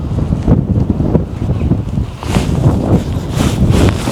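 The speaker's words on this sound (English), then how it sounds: "Bit windy." Strong wind buffets the microphone on the North Norfolk coast near a castle, a continuous loud rumbling roar with gusty swells.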